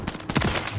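A Renetti pistol fires in semi-auto in Modern Warfare 3, a short run of quick, punchy shots close up, under a second long, with no voices.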